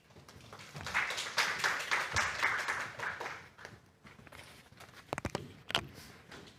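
An audience at a senior citizens' assembly in Chuncheon applauds as a presenter is called to the stage, a dense burst of clapping for about three seconds that thins out, followed by a few sharper scattered claps.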